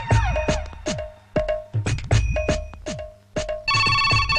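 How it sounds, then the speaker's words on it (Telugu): A telephone rings at midnight with a loud, repeated electronic ringtone: bright chiming bursts in a steady rhythm, ending in a denser burst of tones, with no talking. "అమ్మో, అర్ధరాత్రి ఫోన్ ఏంట్రా బాబు."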